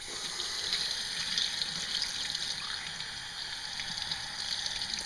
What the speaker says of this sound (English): Skin free, let's rinse it.